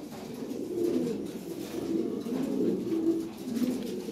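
Lahore Siraji pigeons coo in a repeated, low, throaty pattern, several calls rolling one after another at close range with no talking.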